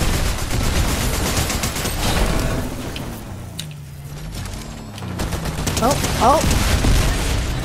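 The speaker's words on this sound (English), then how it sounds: "More shots from down here on the bridge" Fortnite gunfire crackles as a dense, continuous fusillade of shots and booms from a bridge battle, loud and steady throughout, with a brief exclamation from a player over it.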